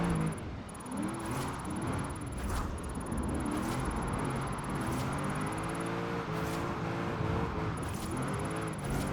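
A car drifts sideways in Forza Horizon 4 with an all-motor drift build, its engine revving in steady rising and falling sweeps with faint tire noise, fairly quiet and continuous.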